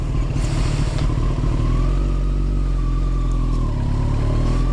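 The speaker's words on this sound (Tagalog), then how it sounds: "Release natin ang clutch, find the friction zone kung saan siya mag-bite, like that, and then give minimal throttle." Kawasaki ZX14R sport motorcycle pulling away on minimal throttle, a loud, steady close-up engine drone with a slight rise in pitch as it eases off, no talking.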